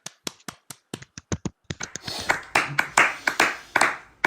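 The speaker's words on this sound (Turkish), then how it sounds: "Alkış, alkışlar." Sharp hand claps, first a slow sparse series of single claps, then quickening into a denser burst of clapping from a few people nearby.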